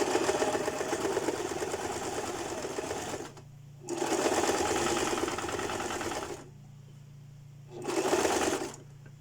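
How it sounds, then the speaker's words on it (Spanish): A sewing machine stitches the hem of a bra (corpiño), running in three close bursts of a few seconds each, with short pauses between. "Hacemos el remate y cosemos."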